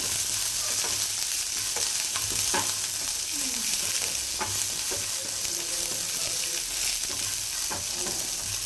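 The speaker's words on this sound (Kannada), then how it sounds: "ಈರುಳ್ಳಿ ಚೆನ್ನಾಗಿ ಫ್ರೈ ಆಗಿ" Chopped onions fry in a pan for a Karnataka-style ridge gourd palya, a steady soft sizzle with occasional stirring scrapes and taps, fairly quiet and close.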